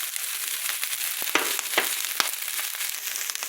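Carrots, bacon and golden garlic frying together in a pan for Hawaiian fried rice, with a constant close sizzle and a few sharp scrapes and knocks as a utensil stirs them, and no voices.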